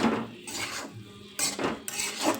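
A Marathi-style banana flower vegetable dish is stirred in a pan with salt. A utensil scrapes and clinks against the metal in quick, close, uneven strokes.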